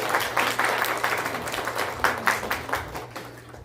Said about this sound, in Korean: 오래간만에 오시니까 박수 한번 치시죠.